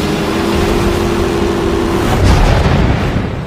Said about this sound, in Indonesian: Hingga membuat kapalnya berjalan sendiri dan seketika langsung meledak